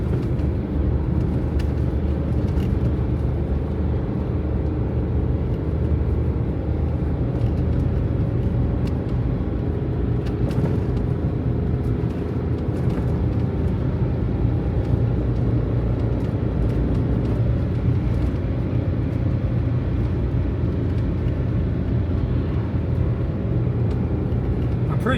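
An old car called Flea labors along with a low, continuous engine rumble and road noise, heavy and unbroken for the whole stretch, with faint occasional knocks.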